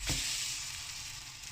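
French toast sizzles steadily in a frying pan just after being flipped, a close, constant hiss with a brief louder burst at the start as the bread lands.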